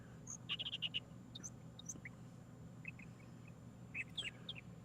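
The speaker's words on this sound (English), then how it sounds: "I keep hearing these birds." Birds call outdoors in short chirpy bursts, a quick run of calls early and scattered calls later, fairly faint over a low background hum.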